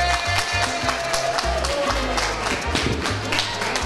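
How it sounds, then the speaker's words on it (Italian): Audience applause at the final selection night of a Latin dance tournament in a café, scattered clapping over a pulsing background of music with a steady low beat. "Applauso."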